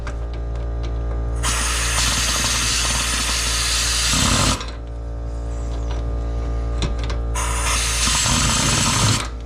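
A power tool tightens the bolts that draw a new rear wheel bearing into a 2006 Toyota Corolla S. It runs in two loud, whirring bursts separated by a short pause.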